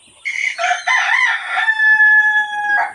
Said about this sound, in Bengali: এখানে দেশি এবং ফার্মি মুরগি আছে, আমরা এগুলোকে আলাদা করে ফেলবো।